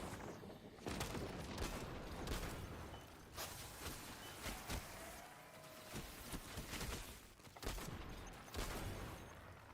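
Rapid gunfire from a primary weapon in a video game, bursts of sharp shots cracking out repeatedly and loud over a steady backdrop of game noise.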